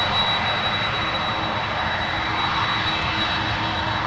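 Boeing 767 jet engines roar loudly and steadily at San Francisco International Airport, a close, sustained whine and rumble with a thin high tone riding on top and no talk.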